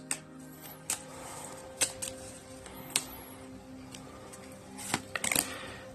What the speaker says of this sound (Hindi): so we will pick 2 more cards on this